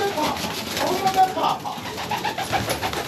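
Racing pigeons in a breeding loft coo softly and repeatedly from close by, with fluttering bird activity and someone speaking intermittently over them.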